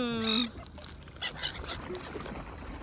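A single loud, nasal honking quack rings out at the start, followed by faint outdoor background noise and scattered soft sounds.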